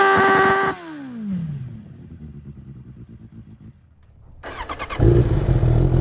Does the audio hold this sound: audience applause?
no